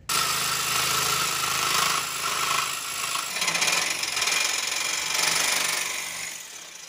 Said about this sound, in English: So drill three holes, cut this out